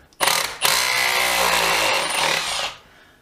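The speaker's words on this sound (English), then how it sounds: "Milwaukee Surge to the rescue" A Milwaukee M12 Surge impact driver drives a screw into hard wood in one loud, close burst of rapid whirring and hammering that lasts about two seconds, then stops.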